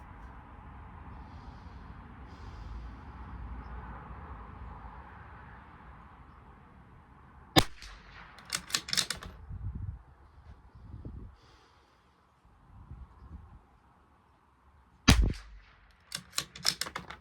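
Bergara B14R Club Master rifle fired at a target during an ammo test outdoors, two sharp loud shots several seconds apart, each followed by a cluster of rattling clicks and handling noise.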